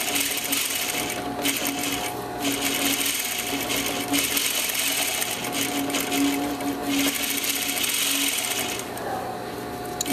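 Sewing machine running steadily, stitching a welt pocket on a man's suit, a continuous close mechanical whir with brief pauses and speed changes throughout.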